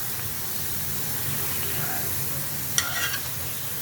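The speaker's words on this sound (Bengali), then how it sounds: "আমি এবার সব বড়াগুলো এইভাবে ভেজে নেব, একদম গোল গোল করে।" Banana fritters made with date molasses, called kolar bora, frying in hot oil. They give a soft, steady sizzle with a brief burst of crackling spatter near the end, and no one speaks.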